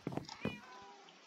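A single short cat meow sounds close but quiet, a brief rising-and-falling cry followed by a trailing tone in otherwise near silence.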